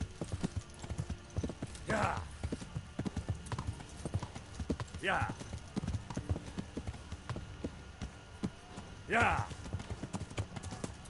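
A horse at full gallop, its hoofbeats drumming in a steady clip-clop rhythm close by, with someone repeatedly saying a short word over the pounding.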